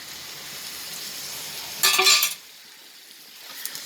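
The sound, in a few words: tomatoes sautéing in oil for dried turkey berry kuzhambu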